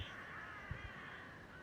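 Crows caw in a village in Germany, a couple of faint, distant harsh calls standing out over a quiet steady background.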